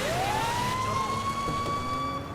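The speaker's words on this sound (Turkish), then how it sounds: "araba yanıyor itfaiye arabası yanıyor" A fire truck siren wails in GTA V, its tone sweeping up and then holding in a loud, steady electronic cry close by for the whole stretch, with no one talking.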